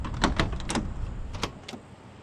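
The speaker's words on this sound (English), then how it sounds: "Doors come right open real easy." The door of a 1965 Ford Fairlane with a 289 V8 opens nearby with a few sharp metallic clicks and latch clunks over a low background hum.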